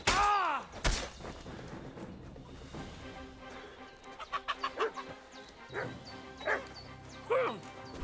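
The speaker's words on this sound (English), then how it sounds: "What's that dog making such a fuss about?" A dog barks and yips in a medieval village in Kingdom Come: Deliverance II, a sharp close bark, then a flurry of quick barks and several more spaced yelps, with faint game ambience underneath.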